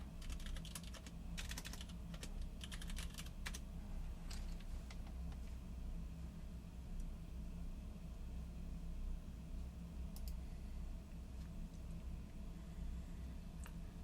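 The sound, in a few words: typing on a custom keyboard with Nixie switches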